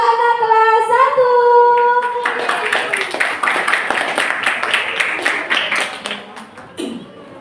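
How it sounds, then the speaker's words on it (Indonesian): Audience applause at a primary school graduation ceremony: a broad patter of clapping from a crowd builds after a sung or held tone and continues steadily for several seconds before tapering off. "Beri tepuk tangan yang meriah untuk anak kelas 1."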